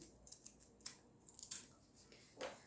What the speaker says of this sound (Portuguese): Agora, eu vou cortar esse excesso de zíper que ficou aqui.